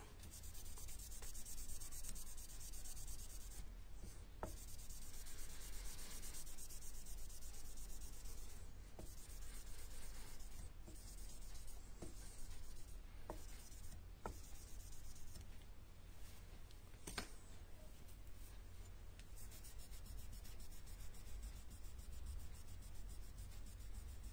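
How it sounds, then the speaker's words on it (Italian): Steady, soft rubbing as a pad polishes the hamon on a blade, a continuous quiet scrubbing texture with occasional light ticks and scrapes, faint and close up without any voices. "qui ci andiamo anche con il tampone direttamente così"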